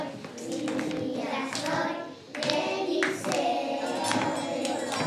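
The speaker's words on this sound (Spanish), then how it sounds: "¡Todo aplaudiendo!" Audience clapping during a Chilean news broadcast segment, a steady patter of hands lasting several seconds, with a brief dip midway and a voice faintly mixed in.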